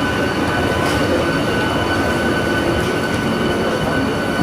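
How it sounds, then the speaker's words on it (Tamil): A MEMU electric train arrives at Kollam Junction railway station, a loud, steady rumble of wheels and motors with a faint rail squeal, close by and continuous. "ஒரு ட்ரெயின் அரைவ் ஆகிட்டு இருக்கு, அதனால சவுண்ட் போட்டே இருக்கு. இது ஒரு மெமோ ட்ரெயின் போல"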